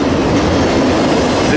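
An NS eastbound freight on the Reading line near CP Laurel in Temple, PA passes close by, a loud steady rumble of rolling cars and wheels on rail with faint wheel squeal, filling the whole moment.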